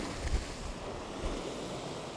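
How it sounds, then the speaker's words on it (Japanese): Strong ocean waves break against a rocky shore in southwestern Shikoku, making a continuous wash of surf and spray with a few low, heavy thumps near the start and middle, heard alone and without speech. "海の色も違うし、波もすごいし"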